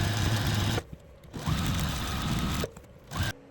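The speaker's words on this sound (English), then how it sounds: "I'm just going to go over to the sewing machine and I'm going to sew 1/8 of an inch all the way" A sewing machine stitching around the edge of a quilt block in steady bursts of motor whir, broken by two short pauses.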